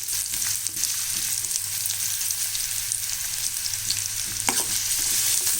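Finely chopped onions fry in a pan for an onion-tomato thokku, giving a steady, close hiss with occasional soft stirring clicks and one sharper scrape near the end.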